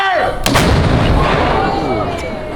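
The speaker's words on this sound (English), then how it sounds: "You can see the cannons fire for free from the observation deck up above over here" Cannon firing in Malta, a single huge boom that rolls into a long fading rumble and echo, loud and near, with faint voices around it.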